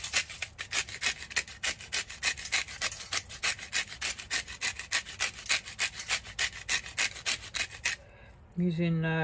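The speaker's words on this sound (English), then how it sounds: "Using ground pepper, grinded pepper." Pepper mill grinding pepper for a Thanksgiving turkey, a rapid rhythmic rasping of repeated close scrapes that runs for about eight seconds before stopping.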